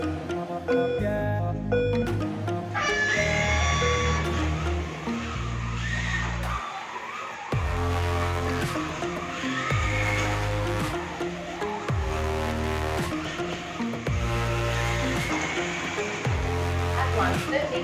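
M3 slot car motor rated at 17,000 RPM whining steadily as the car laps a home track, with repeating rises and dips in pitch on each pass, close and continuous with no talk over it.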